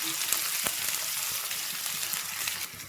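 Onions and garlic fry in hot oil for an ivy gourd masala curry, a loud, dense, steady sizzle close by, with a few scraping stirs before it softens at the end.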